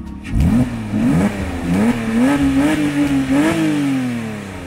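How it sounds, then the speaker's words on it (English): A Porsche Cayman 987 sports exhaust revs repeatedly, its deep note rising and falling in several loud, close blips before settling into a rumbling idle. "have you heard the Carnival exhaust?"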